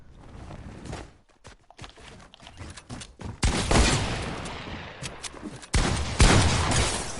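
Shotgun blasts in Fortnite go off as a few loud, close bangs separated by quieter stretches, with mechanical clicks in the gaps and the last shots booming heavily.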